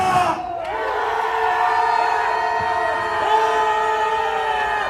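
A rally crowd outside a party headquarters lets out a sustained, loud angry roar of shouting voices lasting several seconds, with overlapping yells rising and falling together.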